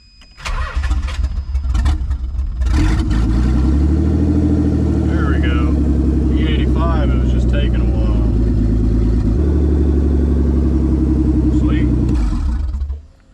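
A Nissan 300ZX engine with no exhaust fitted cranks, catches, and settles into a loud, steady idle with a deep rumble, then cuts off near the end; voices are heard over it.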